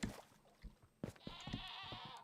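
Video game goats bleat in a short cluster of wavering cries over a busy, cluttered background, with one sustained bleat near the end.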